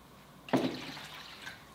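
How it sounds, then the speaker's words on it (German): Water poured into apple cider vinegar to mix a one-to-one solution, heard as a brief splashing pour that trails off into a faint trickle and then quiet. "Dann nehmen wir jetzt einen Apfelessig. Und genauso viel Wasser dazu."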